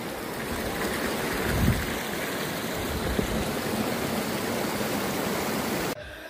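A small waterfall at Kampisong in Ginatilan, Cebu pours with a constant, dense rushing wash, near and even in level, before it cuts off abruptly just before the end.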